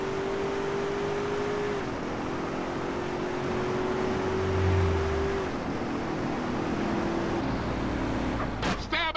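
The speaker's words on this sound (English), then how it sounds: "Don't worry, girl. I don't drive as bad as CJ." A car driving in the video game GTA San Andreas, a steady engine drone with a held tonal whine and a rattling clatter near the end, continuous and fairly quiet throughout.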